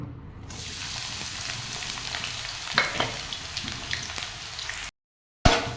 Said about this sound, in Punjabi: ਤੇਲ ਆਪਣਾ ਗਰਮ ਹੋ ਗਿਆ ਤੇ ਆਪਾਂ ਇਹਦੇ ਵਿੱਚ ਪਹਿਲਾਂ ਪਿਆਜ਼ ਪਾਵਾਂਗੇ